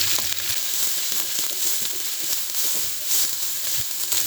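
Two finely chopped onions fry in hot oil with garlic paste for beef chilli, a steady close sizzle with faint stirring scrapes throughout and no talk.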